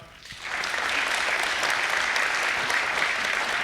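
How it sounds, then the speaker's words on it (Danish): A comedy club audience at a live stand-up show breaks into sustained applause, starting just after a brief quiet moment and holding steady and dense throughout, loud and close with a few voices mixed in. "Prøv lige at klappe."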